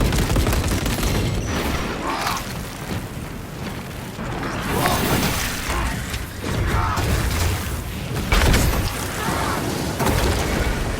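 Melter charge fire in Warhammer 40000: Space Marine 2 blasts and roars continuously, a loud, dense wall of gunfire, booms and mechanical clatter with no pauses.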